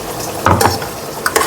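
Gongura paste goes into a pan of frying mutton and gets stirred, making a loud, close sizzle with quick scraping strokes of the spoon and no talk.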